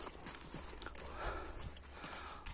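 A horse walking nearby, hooves clip-clopping in an uneven rhythm of light knocks, faint and close, with quiet voices in the background.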